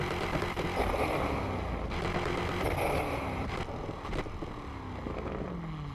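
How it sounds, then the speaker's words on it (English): A Lamborghini Murcielago with a custom exhaust sound in a racing video game makes a raspy, continuous engine drone with shifting pitch and brief bursts, fairly loud and steady with no talking. "here is the engine sound that I've gone with then for the exhaust"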